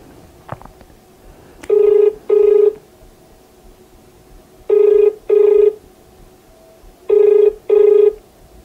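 A telephone rings in three pairs of clear electronic trills, each pair spaced a few seconds apart. The rings are loud and close against a quiet background, and nobody talks over them.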